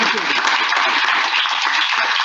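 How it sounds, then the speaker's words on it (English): Audience applause for a guest named Bill at a Rotary club meeting, a dense and steady round of clapping from a room of people that holds at an even level throughout. "let's give Bill a huge round of applause"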